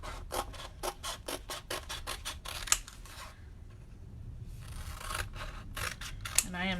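Scissors snipping out paper pieces, a rapid series of close, crisp snips, then a pause before a few more cuts.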